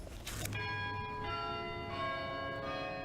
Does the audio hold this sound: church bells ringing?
yes